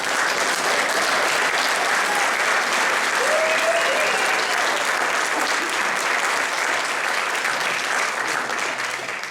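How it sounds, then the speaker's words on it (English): A large audience applauds nursing graduates at a pinning ceremony, with loud, dense, continuous clapping that holds steady for about nine seconds before easing slightly at the end. "Let's honor our graduates one more time with a round of applause."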